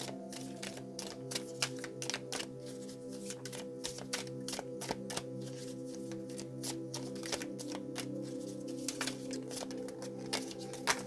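Tarot cards are shuffled in a long run of soft, rapid taps and riffles, faint and close under a steady low hum, with no talk.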